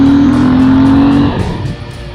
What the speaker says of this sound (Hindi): और बाइक पे अगर मैं एग्जॉस्ट की बात करूं तो it sounds good